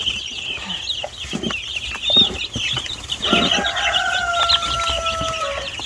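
Meat chickens being fed breakfast keep up a loud, busy chorus of overlapping clucks and squawks, with a few longer drawn-out calls, close by and nearly without talk.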